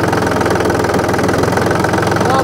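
A mini tractor engine runs close and loud with its hand throttle slightly opened, a steady knocking mid-pitched drone with even rhythm throughout and no talk.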